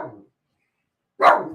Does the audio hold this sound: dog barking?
yes